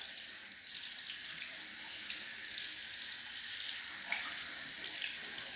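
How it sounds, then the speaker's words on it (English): Tap water runs steadily over a Dyson vacuum filter being rinsed, a continuous hissing splash with slight fluctuations, close and alone without speech. "you just run it through the water"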